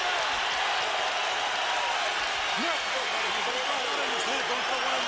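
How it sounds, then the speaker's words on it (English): A boxing arena crowd at a WBA featherweight title fight roars continuously as a loud, dense wash of cheering, with a voice speaking over it. "You hear that crowd? They want to see you knock this guy out"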